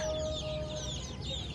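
In a village yard in the morning, hens and chicks cluck and peep softly while pecking at grain, over a steady low background hum. The birds sound faint and somewhat distant, with no speech.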